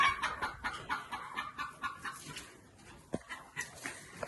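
Young pheasants in a farmyard pen cluck and chirp close by, making a steady run of soft, rhythmic calls with a few sharper peeps and no voices over them.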